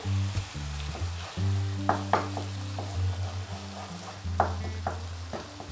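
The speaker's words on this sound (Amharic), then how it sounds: "የቲማቲም ድልህ እንደዚህ ስኳር እንጨምርበታለን።" Tomato paste and sugar sizzle in a frying pan for a stew, a steady close frying hiss with stirring scrapes and a few sharp utensil clicks against the pan.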